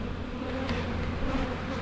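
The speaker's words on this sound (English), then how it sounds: "Bees cannibalizing a larva." Honey bees buzz inside an open hive, a dense steady drone, close and unbroken.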